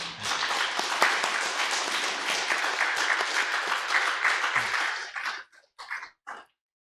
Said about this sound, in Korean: 우리 하나님께 한 번 더 영광의 박수 한번 드릴까요?